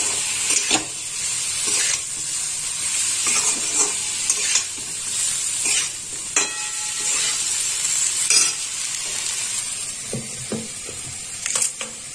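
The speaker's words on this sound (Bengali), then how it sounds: "এবার ভালো করে মশলাটা মিশিয়ে নেব সব সবজির সঙ্গে।" Spices being stirred into vegetables frying in a pan for a Bengali eggplant and fish curry: steady close sizzle with repeated spatula scrapes and clacks against the pan throughout, no talking.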